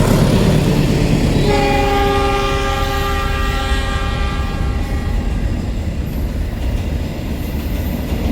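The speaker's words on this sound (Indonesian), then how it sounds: "Itu dia keretanya menuju arah Bandung." A passenger train crosses the Cisomang railway bridge heading toward Bandung, a loud steady rumble of wheels and cars throughout, with a sustained horn-like tonal chord sounding over the roar for several seconds.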